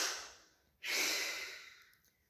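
A yoga student in a Bikram class takes one deep, audible breath, a sharp airy rush that fades slowly and is heard close and alone.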